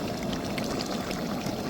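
Ground-spice grinding water is poured into a simmering chicken curry, giving a soft continuous splashing pour. It is steady and fairly quiet, with a faint low bubbling underneath.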